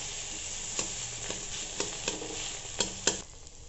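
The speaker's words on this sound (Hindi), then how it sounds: "आलू को डालकर अच्छी तरह से इसको भून लेंगे।" Potatoes fry in a pan with a soft, continuous sizzle, punctuated by several sharp spatula taps and scrapes against the metal.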